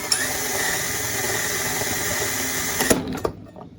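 A power saw blade bites through a board for a dual-hose portable AC window kit, a loud continuous buzzing whine for about three seconds that cuts off abruptly, followed by a couple of clunks.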